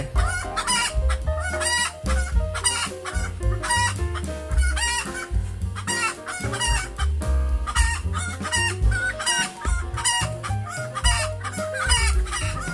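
Chickens cluck steadily while a rooster crows repeatedly at a village coop, loud and close with no talk over them.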